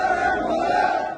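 A large protest crowd in Kazakhstan chants in unison, a dense, sustained roar of many voices outdoors, steady and loud throughout before easing slightly at the end.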